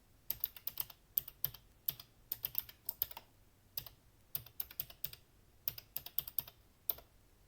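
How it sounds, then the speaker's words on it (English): Quick bursts of key presses on a computer keyboard as a password is entered, crisp clicks clustered in short runs with brief pauses between, close and fairly quiet. "I mistyped the password. Let me try again the password."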